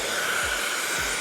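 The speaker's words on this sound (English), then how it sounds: "let's try to blow dry my hair now." A hair dryer blows in one steady, continuous rush of air with a faint motor whine running underneath, close and unbroken, with no one talking.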